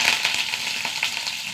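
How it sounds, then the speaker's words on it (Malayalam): Mustard seeds, two dried chillies and curry leaves crackle and sizzle in hot oil, a dense steady frying hiss with small pops, close and continuous with no talking. "കടുക് ഇട്ട് കൊടുക്കുക. 2 വറ്റൽമുളക്, കറിവേപ്പില."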